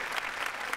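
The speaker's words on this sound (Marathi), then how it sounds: "जोरदार टाळ्या त्यांच्यासाठी झाला पाहिजे." Audience applause at a Marathi comedy show taping, a steady wash of clapping from a studio crowd that carries at an even level for under a second.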